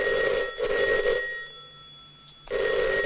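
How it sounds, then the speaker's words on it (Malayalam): A telephone bell rings in sharp, loud bursts, two quick rings close together, then a pause before another ring starts. "ആ ഫോൺ അറ്റൻഡ് ചെയ്യടോ."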